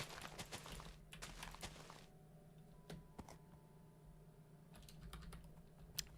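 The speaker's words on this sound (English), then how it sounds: "Y'all just love keyboard ASMR." A computer keyboard is typed on in quick bursts of crisp, close key clicks, pausing in the middle before a few more scattered taps and another short flurry, all fairly quiet over a low background hum.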